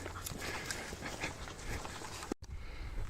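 Dogs out with a pair of hikers on a forest path, panting and shuffling close by under steady wind-like rustle, with a brief dropout near the end.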